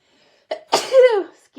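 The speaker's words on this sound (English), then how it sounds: "I'm going to sneeze again" A single close, loud human sneeze, a short sharp intake breath followed by an explosive burst, heard alone indoors.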